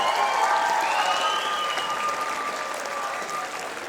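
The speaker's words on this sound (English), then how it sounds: "Let's have a round of applause for all of our 7th and 8th grade band students." Sustained applause from a school concert audience for 7th and 8th grade band students, a dense steady wash of many hands clapping that fades slightly toward the end, with a faint lingering tone running underneath.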